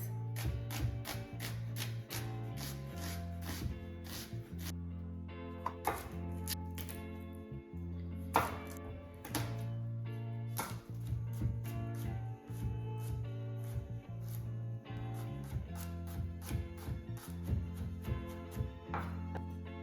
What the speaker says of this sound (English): we're gonna start, like I said, by mincing our garlic and onions